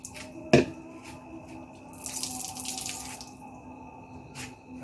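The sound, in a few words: washing dishes under a running tap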